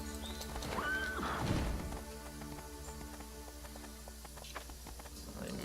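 A horse in the Riders of Icarus video game gives a loud whinny early on, followed by a steady patter of hooves under looping game music.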